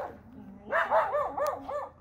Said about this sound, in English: The dogs are playing, having a good time outside.